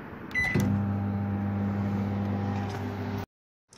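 Microwave oven running after the start button is pressed, giving a steady low mechanical hum with a faint beep at the start that runs evenly for a few seconds and then stops abruptly.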